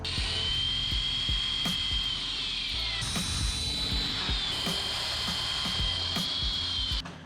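Power drill boring holes in an aluminum jon boat during a bass boat conversion, a high whining spin held steadily with brief pitch drops and sharp clicks and taps between bursts, close and loud.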